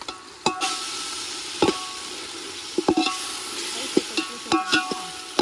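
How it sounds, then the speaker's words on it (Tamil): Ginger garlic paste and onions sautéing in a pan, a soft steady sizzle broken by repeated sharp scrapes and taps of a spatula stirring against the pan, close by and without talk. "இஞ்சி பூண்டு பேஸ்ட் போட்டது நல்லா பச்சை வாசம் போதுன்னு வதங்கிச்சு"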